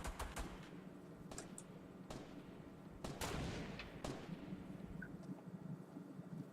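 Repeated video game gunshots crack out in irregular bursts, some sharp and close, others more distant, over a steady low rumble of battle ambience.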